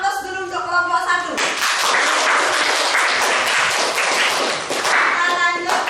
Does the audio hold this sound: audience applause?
yes